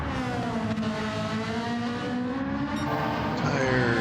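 Engines of race cars in a classic racing video game on the Deep Forest track whine and rev steadily, pitch rising and falling as they accelerate, with a brief tire squeal and no voices.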